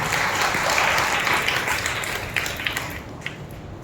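Loud, sustained applause from a church congregation at an Indian Christian day service, a dense wash of many hands clapping that fills the space and slowly thins toward the end.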